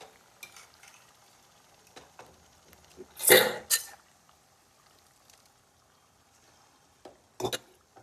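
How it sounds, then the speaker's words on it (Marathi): Boiled moth beans being stirred and fried in spice masala, with scattered scraping and stirring clatter from a utensil, one louder burst midway and faint sizzling between, fairly quiet overall. "मसाल्यात व्यवस्थित परतून घेऊया."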